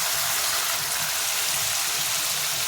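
Water is poured into a cooking pot of simmering, reduced spices, producing a steady, loud hissing rush of liquid that fills the whole moment without any talk over it.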